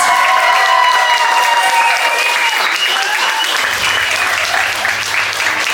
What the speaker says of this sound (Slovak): tento potlesk patrí vám